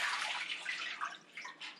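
Hot water is poured from a container into a roasting pan to make a water bath for a homemade cheesecake, a short, soft splashing trickle that wavers as the stream lands.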